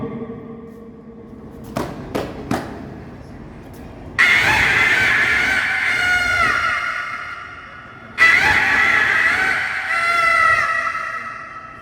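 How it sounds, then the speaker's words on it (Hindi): Rooster crowing at dawn in a rural village, two long loud crows close by after a few soft thumps, the second crow following the first after a short pause. "सबसे पहले मुर्गे की बांग।"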